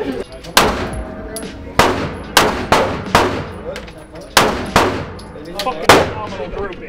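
Loud, sharp gunshots ring out one at a time at an outdoor shooting range, about a dozen irregularly spaced reports, each with a short echoing decay.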